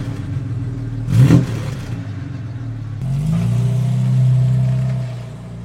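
Jaguar MK2 classic saloon with automatic gearbox, its engine running and briefly revving, then pulling away with a steady rising hum heard from inside the car.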